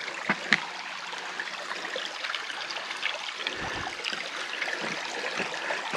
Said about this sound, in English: beautiful little creek